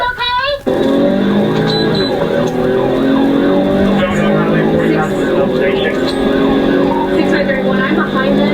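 A sheriff's deputy patrol car races westbound on highway 40 against traffic with its siren on. The siren wails steadily and fairly loud through the whole stretch, mixed with engine and road noise and under people talking.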